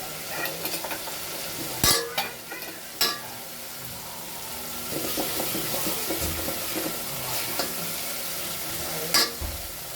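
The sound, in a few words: tempering spices sizzling in oil for masoor dal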